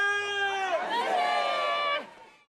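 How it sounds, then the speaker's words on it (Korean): Many voices shout a Korean independence cheer together at a street parade, a sustained massed vocal roar that rises and holds for about two seconds before cutting off. "대한독립 만세 함성이 울려 퍼집니다."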